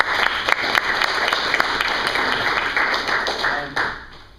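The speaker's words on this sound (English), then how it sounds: "Clap it out." An audience claps for a student's community project at a presentation event, dense, steady applause that stays loud for several seconds before tapering off at the end.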